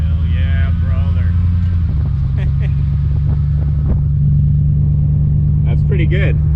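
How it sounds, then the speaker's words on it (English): A 5.3 LS-powered S15 hot rod truck engine drones steadily with a low rumble while tires squeal in short burnout bursts; people talk briefly over the noise. "Quite the burnout"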